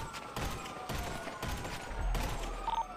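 Gunfire in a GTA RP police chase: a few sharp broadband bursts spaced roughly half a second apart, moderately loud over a steady hum, with a voice briefly audible.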